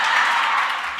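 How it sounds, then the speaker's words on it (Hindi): An audience claps in a steady, dense wash that holds at an even level throughout, thinning slightly near the end. "ये भीलूड़ा वाला ही ताली बजा रहा है"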